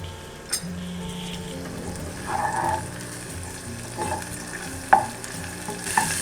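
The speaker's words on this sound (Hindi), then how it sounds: "इसको मैं लो फ्लेम पे सौते कर लूंगी। जिंजर गार्लिक के पेस्ट को ब्राउन नहीं करना, सिर्फ सौते करना है" Ginger garlic paste sautés gently in a pan over a low flame, a quiet continuous sizzle broken by occasional light scrapes and clinks of a spoon.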